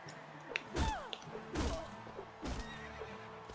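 Horses in the medieval combat game Mount & Blade: Warband whinny with sharp, sliding cries and stamp their hooves in several bursts, loud and near, over a low battle din.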